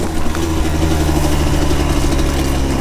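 A steady, loud engine drone from an 85 cc motorbike being ridden, a continuous mid-pitched hum throughout with no talking.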